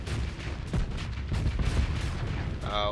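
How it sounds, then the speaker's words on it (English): A starship's plasma cannon in the space combat game Apogee hammers an enemy's shields with a rapid string of heavy, booming blasts, the shots overlapping into a continuous pounding barrage. "Your plasma cannon is just going to provide that constant pressure to your opponent's shields."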